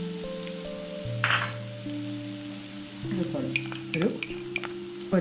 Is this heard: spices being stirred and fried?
yes